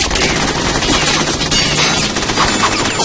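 Rapid automatic gunfire in a video game, a dense and loud unbroken barrage of shots that fills the full few seconds without pause.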